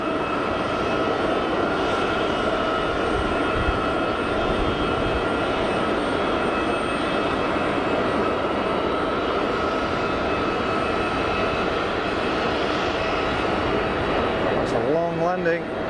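Steady loud jet engine roar from a Boeing 787 Dreamliner landing at Geneva Airport, a continuous droning hum with tonal whine that holds level throughout, with talk over it near the end.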